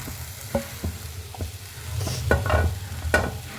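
Grated egg stirred into onions frying in a pan, a soft sizzle under a few spoon scrapes and knocks, close and brief, with no talk.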